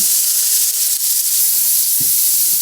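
Meat sears on a hot teppanyaki griddle with its seasoned side down, giving a loud, steady sizzling hiss that runs unbroken and close, with no voices over it.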